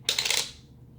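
A coin dropped onto a hard table gives one bright metallic clatter with a short rattle that quickly fades, close and alone.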